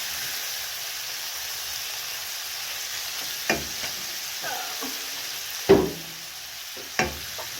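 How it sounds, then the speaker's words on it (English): Goat tripes with tomatoes fry in a pan under a soft, steady sizzle, broken by several sharper scrapes and knocks of a spoon as the mixture is stirred. "Mix that well."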